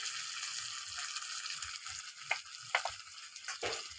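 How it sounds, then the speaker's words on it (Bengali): Salt, turmeric, coriander and chilli powders fry in a pan for egg masala curry, a soft continuous sizzle broken by a few light scraping stirs, quiet and close with no talk. "মশলাটাকে খুব ভালো করে আগে কষিয়ে নিয়েছি।"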